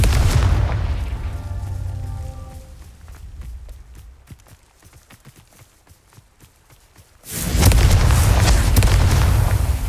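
A Confringo blasting spell in Hogwarts Legacy erupts in a loud, roaring explosion, fades into scattered crackling and rumble, then swells into a second heavy, sustained blast.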